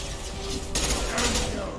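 Loud sustained bursts of gunfire in a Mass Effect-style shooter fill the moment with a dense, close crackle and rumble, intensifying partway through.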